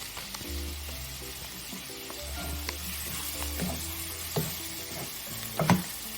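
Pork sautéing in a pan with lemon juice and garam masala gives a soft, steady sizzle with occasional scraping stir sounds and a louder clatter near the end, quiet and close, with a faint hum underneath.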